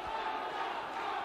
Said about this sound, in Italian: Il pubblico sottolinea con applausi questi due destri messi a segno da Galvano su Keylor